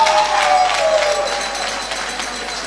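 An audience applauds at an NGO's twentieth-anniversary gathering, a steady, loud wash of clapping with crowd murmur throughout, easing slightly toward the end.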